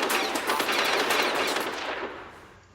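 Rapid bursts of automatic gunfire from the video game Metal Gear Solid: The Twin Snakes, a dense, loud rattle that holds steady for over two seconds before tapering off at the end.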